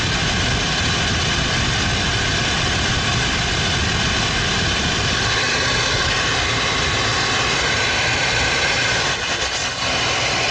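A loud, steady roar of an oil boiler burner running close by, dense and unbroken, with a slight flutter in the flame noise.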